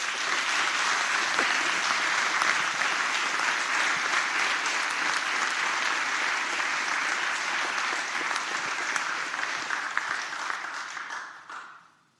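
A chamber audience in the Senate of Virginia applauds the chaperones and hotel parents with steady, dense clapping that holds for about eleven seconds before fading out at the end.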